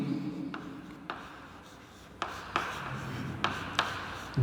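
A definition being handwritten in a biology lesson, with scattered scratchy pen or chalk strokes spaced about half a second to a second apart, fairly close, over a low background hum.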